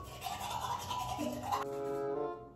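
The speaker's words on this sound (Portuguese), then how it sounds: "eu tô escovando dente sentada" Someone brushing their teeth with a toothbrush while seated, with steady close scrubbing and a faint tonal hum behind it that ends after about two seconds.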